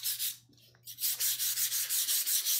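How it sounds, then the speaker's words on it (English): Rhythmic sanding strokes on a wooden side table finished with chalk paint, a bright rasping rub repeated in even back-and-forth passes, close up, with a short pause near the start and no voices. "now she's having to go through and sand any spots that aren't self-leveled"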